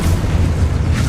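A Confringo spell explosion from the Hogwarts Legacy video game, a dense, loud, low rumbling boom that rolls on steadily with no pause and no talking.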